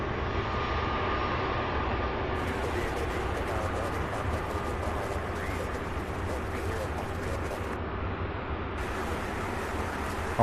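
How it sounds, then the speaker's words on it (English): A Boeing 757 at night at SDF airport, UPS Worldport, gives a steady broadband engine roar that holds loud and even throughout, with no breaks. "our third 757 in a row"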